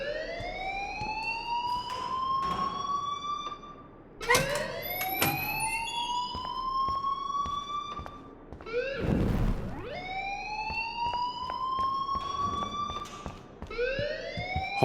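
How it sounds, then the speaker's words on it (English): In the video game Life is Strange, an alarm wails in repeated rising sweeps, each climbing and holding before starting over, loud and insistent with a brief noisy burst midway. "please turn off that alarm since that's your job"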